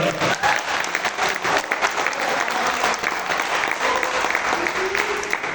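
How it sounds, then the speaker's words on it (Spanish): A church congregation claps steadily and loudly, with dense, sustained applause close by and no pause for its whole length. "dale una ofrenda de palmas"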